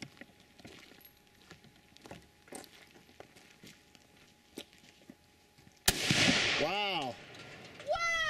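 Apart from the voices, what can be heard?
gunshots from a shouldered gun at a jug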